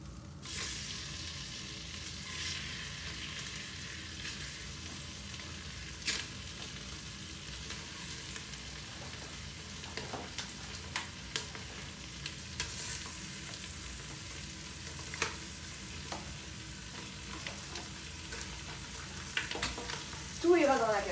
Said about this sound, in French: Pour commencer, on va faire revenir les pilons de poulet.